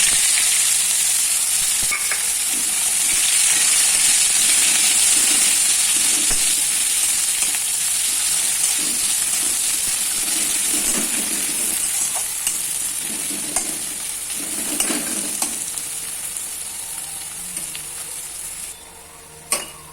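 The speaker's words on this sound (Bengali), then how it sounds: "পেঁয়াজটা একটু নাড়াচাড়া করে নিয়ে 2 মিনিটের জন্য ঢাকা দেব" Sliced onions sizzle loudly in hot oil in a pan for a Bengali fish-head and ash gourd dish, with steady frying hiss and repeated stirring scrapes throughout, a sharp knock near the end.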